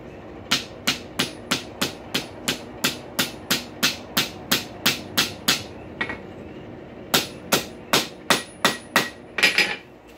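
Hammer blows on hot 5/16 round stock, curling a rail spike into a hinge: about twenty sharp, ringing strikes in a fast, even rhythm, a short pause near the middle, then another quick run of blows, with no talking.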